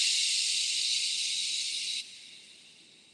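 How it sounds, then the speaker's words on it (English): A long mouth exhale shaped into a sustained sh sound during a breathing exercise, a bright, close hiss that holds steadily, drops to a softer level partway through and fades gently, with no talk. "And your exhale, maybe make a sh sound."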